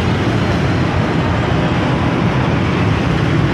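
Morning city traffic in Lahore, a dense, steady roar of road vehicles that holds at a loud, even level throughout with no clear gaps or single passing vehicle standing out.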